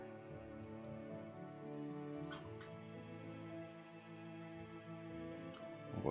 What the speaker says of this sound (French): On voit pas grand chose quand il pleut comme ça.